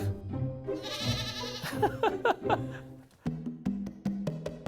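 A goat in rural Ethiopia bleats close by in a series of wavering calls, followed by several short sharp clicks or knocks.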